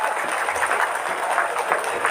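An audience claps at an outdoor religious gathering in Madura, a continuous, even patter of many hands filling the short stretch without a break.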